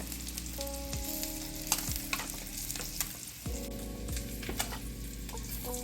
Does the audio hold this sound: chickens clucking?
no